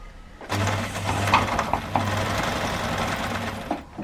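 An electric sewing machine runs in quick bursts, its motor whirring and needle rattling rapidly as it stitches a crossbody shoulder bag, starting after a short pause and stopping near the end.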